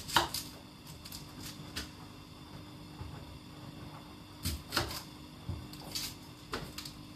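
Food being chopped on a cutting board while preparing a meal-kit dish: faint, scattered knife taps with irregular rhythm over a quiet background hum.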